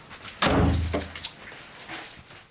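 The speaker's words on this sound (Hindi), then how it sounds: "क्यों दरवाजा बंद कर लिया है आपने?" A door slams shut with a heavy thud that booms low and then fades, followed by faint rattles and quiet room tone.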